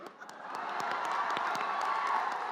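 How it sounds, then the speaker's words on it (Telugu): A crowd at a film success celebration event claps and cheers during a speech, a sustained wash of applause and shouts building gradually and staying steady. "చప్పట్లు కొట్టు"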